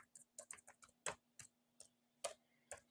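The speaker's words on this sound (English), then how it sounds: "Typing that in for you right now." Quick, irregular keystrokes on a computer keyboard, close and fairly quiet: a dozen or so crisp clicks with short pauses between bursts and no talk.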